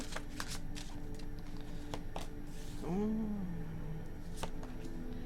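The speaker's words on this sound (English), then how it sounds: "Last shuffle." A final shuffle of a tarot deck, with brief papery riffles scattered across the span and a short tonal sweep near the middle, close over a steady low hum.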